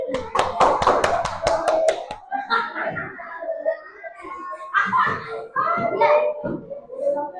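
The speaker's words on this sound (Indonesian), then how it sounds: "Berikan tepuk tangan untuk kelompok kinestetik." Students in a classroom clap for a student group, a burst of close hand claps in the first two seconds, followed by children's voices and chatter.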